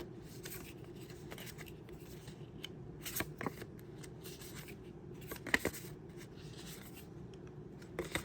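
Paper scrapbook cards from a kit flipped through by hand, quiet papery shuffles and light taps at a steady, close pace.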